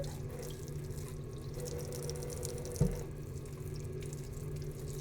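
Zucchini and squash are washed under a running tap, a steady close-up hiss of flowing water with a brief splash or knock partway through.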